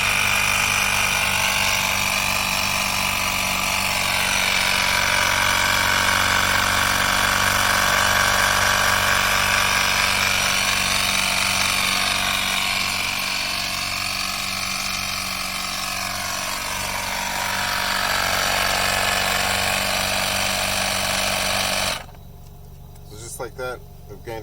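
A small ALBAD portable tire inflator air compressor runs steadily, pumping air into a car tire with a continuous buzzing drone and motor whine, close and loud, before cutting off near the end.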